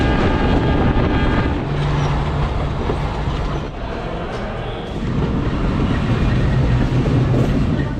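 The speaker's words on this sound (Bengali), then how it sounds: "কোনোহাট রেল স্টেশন থেকে আমাদের ট্রেন ছেড়ে যাবে" A local train pulling out of Konohat railway station in Bangladesh: a loud, continuous rumble of wheels on rails with steady clatter and faint squealing tones, heard from on board.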